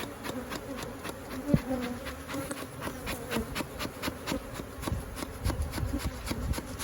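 A dense, steady swarm of agitated honeybees buzzes close around an opened hive, with individual bees whining past and faint rubbing and scraping sounds beneath.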